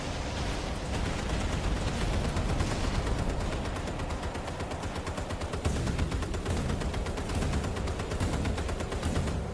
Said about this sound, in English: Get our cannons here, finish off the submarine right here.